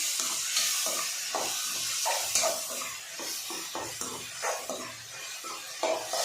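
Dried fish thokku frying in oil, a close, steady hissing sizzle with soft bubbling crackles and occasional stirring scrapes, with no talking.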